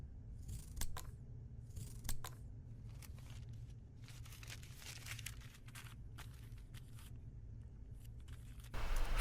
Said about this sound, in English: From the shoulder, we can just cut it straight across to the selvage.